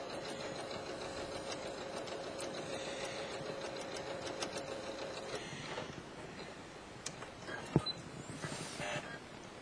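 A sewing machine fitted with an open toe embroidery foot top stitching fabric, running in a steady, close mechanical chatter with a faint rhythmic hum that softens near the end, broken by a single sharp click.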